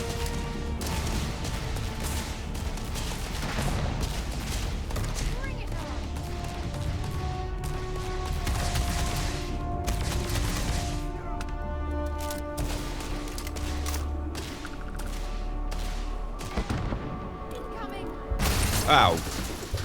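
Gunfire and explosive booms from the space video game Starfield, a dense, steady din of repeated shots and blasts throughout, with a louder burst near the end.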